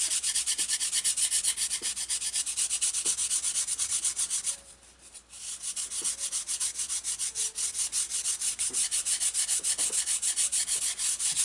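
Balsa leading edge of a Sunbird V2 powered glider wing being sanded round, a close, steady, rapid back-and-forth scratching that briefly pauses before resuming at the same pace.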